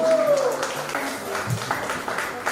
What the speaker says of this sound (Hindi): जोरदार तालियां हो जाए मेमोरी बुक के लिए